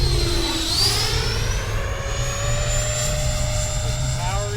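An X-Fly Sirius 80mm electric ducted-fan jet model aircraft flies past under power, a loud continuous whine with rising and shifting pitch sweeping by overhead.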